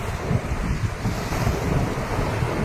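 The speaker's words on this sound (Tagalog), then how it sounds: "kalma-kalma na po ang dagat" Sea surging along the shore at Kiamba, Sarangani in the aftermath of a tsunami, a steady low roar of rolling water mixed with gusting wind buffeting the microphone.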